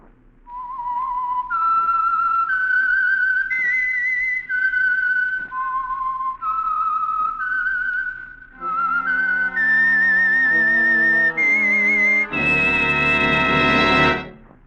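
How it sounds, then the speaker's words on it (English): The whistled theme of the radio mystery show The Whistler: a clear melody rises in stepped notes, joined near the end by a swelling orchestral chord, loud and close with no talking. "the signal to listen for is this whistle that identifies the Signal Oil program"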